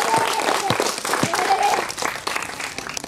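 Audience applause for children about to perform in an arts-education theatre event for a marginalized community, steady dense clapping filling the room throughout with a few louder individual claps standing out.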